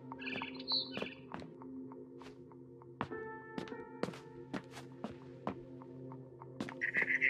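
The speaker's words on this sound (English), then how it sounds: "Then I heard chirping outside my window. It was a barn swallow going back to her nest." Barn swallow chirps in What Remains of Edith Finch, short bright calls scattered over a steady low hum, with soft thunks and taps mixed in and a brief flurry of chirping near the end.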